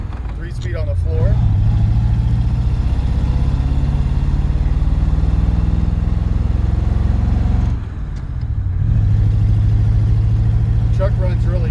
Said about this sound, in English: The truck runs really good.